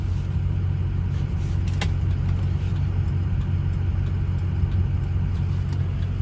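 A 2007 Ford F-250 with the 6.0L Powerstroke diesel idles steadily, a close, even low rumble with a constant throb and no changes in speed, heard alone without talk.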